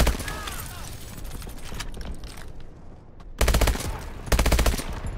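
Rapid automatic gunfire in the Call of Duty Advanced Warfare video game, loud dense bursts of shots that stop briefly and then resume in two sharp volleys.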